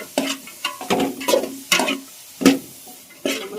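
Jackfruit pieces for a stir-fry thoran tossed into a hot pan, sizzling softly as a spoon scrapes and stirs in repeated loud strokes at an uneven rhythm.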